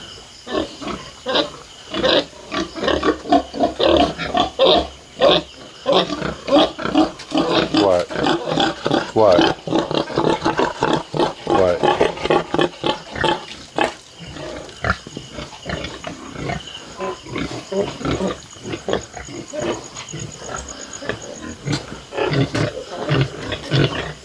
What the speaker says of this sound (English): How you doing, little one-eared pig?